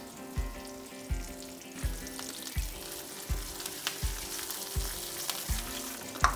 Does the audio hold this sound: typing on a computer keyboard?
no